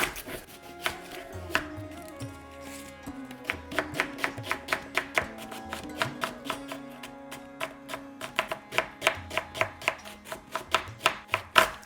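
A knife chops an onion finely on a board, sounding as crisp, close taps that start irregularly and then settle into quick, steady runs of strokes.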